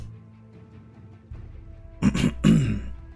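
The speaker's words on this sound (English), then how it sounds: "Clearing my throat." A man clears his throat twice in quick, close, loud rasping bursts over the quiet hum of a Teamfight Tactics game.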